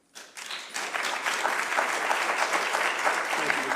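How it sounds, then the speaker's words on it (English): Audience at a Sumner County, Tennessee county commission meeting breaks into steady, sustained applause, rising quickly after a brief quiet start and filling the room until the end. "I would ask everybody to refrain from clapping"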